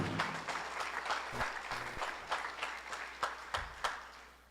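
An audience at an investiture ceremony applauds, a short burst of scattered clapping from a modest crowd with a few sharp individual claps standing out near the end, moderately loud and close.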